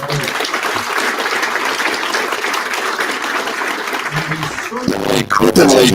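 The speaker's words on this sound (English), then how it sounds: "A round of applause for them." A crowd at a graduation ceremony claps in a sustained round of applause, loud and continuous for several seconds, with a voice speaking over the tail end.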